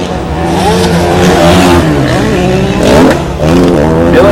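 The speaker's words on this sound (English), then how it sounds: "Out front now is Ryan Miller on that box stock Husqvarna 252 stroke" A stock Husqvarna 250 two-stroke motocross bike racing on a dirt track, its engine revving loud and continuous with rising and falling pitch as it accelerates, other bikes and crowd noise mixed in.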